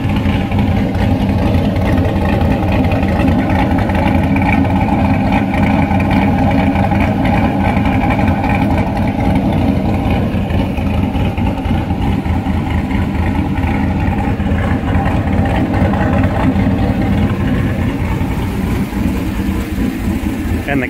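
A C5 Corvette V8 with a Bassani X pipe exhaust idles steadily and loudly up close, a deep, even rumble holding without revving throughout.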